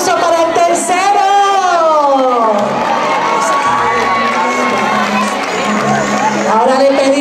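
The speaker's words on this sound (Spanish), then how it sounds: "Un aplauso para el tercero." A school pageant crowd cheers and claps loudly, with children's shouts and whoops rising over continuous applause; an amplified voice sounds over the noise in places.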